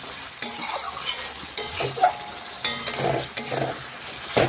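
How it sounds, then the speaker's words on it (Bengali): Cauliflower and potatoes are stirred in a kadai, with close, repeated scraping strokes over a soft, faint sizzle. "এই দেখুন এইভাবে নাড়াচাড়া করতে করতেই কড়াইয়ের নিচে যেটুকু জল আছে সেটাও শুকিয়ে যাবে।"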